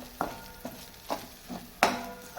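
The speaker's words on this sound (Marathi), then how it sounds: "हे सर्व मसाले आपण तेलावर छान आता परतून घेऊया" Spices frying in oil for a red potato bhaji, with a low sizzle and several distinct scraping stirs of a spoon against the pan, one of them loud and sharp.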